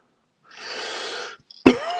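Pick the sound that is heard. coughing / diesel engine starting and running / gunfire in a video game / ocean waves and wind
coughing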